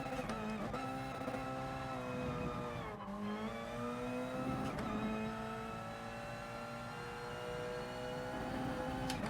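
Race car engine droning on track in the GT Sport video game, a sustained high revving whine that shifts pitch between gears, loud and continuous with no talking.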